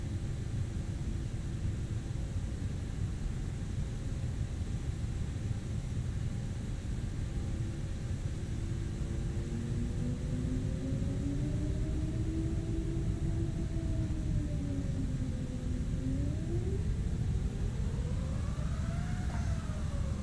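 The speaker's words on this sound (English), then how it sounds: "The rumble is not A320 rumble, but that gear sound has been altered, but it's still based off the 320, I think." Airbus A380 in a flight simulator game, a low steady engine rumble under broadband noise, with tones that rise and bend in pitch toward the end as the engines spool, fairly faint and continuous with no talking.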